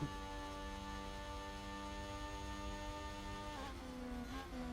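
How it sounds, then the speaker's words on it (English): A Formula 1 car in the F1 Manager 2022 racing game holds steady, sustained engine tone at maximum revs along a straight, bouncing off the limiter, with a brief pitch dip near the end; loud and continuous with no voices. "You can hear that car at max revs as he just hits the limiter going around that straight"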